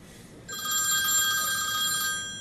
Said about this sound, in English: That's like the most annoying ringtone ever.